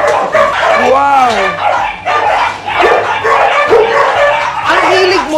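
Many large dogs bark at a resort, with loud overlapping barks and yips close by, mixed with whines and people talking.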